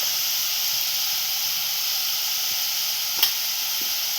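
Asafoetida and turmeric sizzling in hot oil for a chutney, a steady loud hiss of frying close by with one brief clink partway through and no talk.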